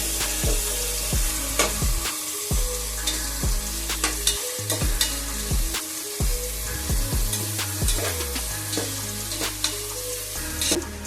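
Onions sauté in hot oil for a coconut rice and chicken gravy meal, a loud, steady sizzle broken by frequent sharp spatula scrapes and clicks against the pan, close up and with no talking.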